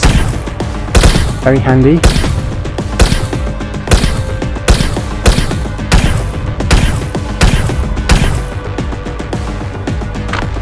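Rapid gunfire from a weapon in the VR shooter Astro Hunters, with loud, repeated single shots spaced roughly a second apart over a dense game soundscape while someone briefly talks.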